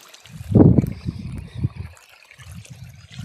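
Water trickles and splashes from a pipe on a farm field, a gurgling burst early on followed by softer, uneven dribbling pulses, close and outdoors with no talk.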